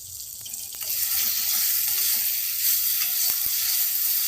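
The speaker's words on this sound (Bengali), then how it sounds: "মশলাটা কষে নিয়েছি" Spice paste with a little poppy seed fries in a pan, producing a loud, even, close sizzle throughout, broken by a few sharp stirring clicks.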